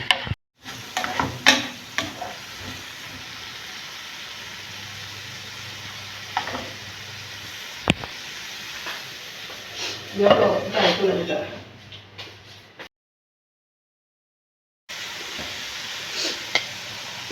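Carrots and green peas frying in a pan while being stirred with a spoon, steady sizzling with scraping strokes and clinks against the pan, busier bursts of stirring near the middle, then a short gap of silence.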